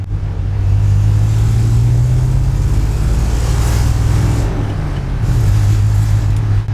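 A roughly sixty-year-old car drives along in second gear with a steady, close engine rumble and a low droning hum. A slight dip occurs midway before the engine settles back to an even pace.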